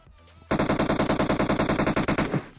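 Rapid automatic gunfire in Battlegrounds Mobile India, a long, loud, evenly spaced burst of roughly twenty shots that begins after a brief quiet stretch.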